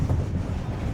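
Cargo train rolling on rails in Turkey, a steady low rumble with wind buffeting the microphone throughout, close and continuous.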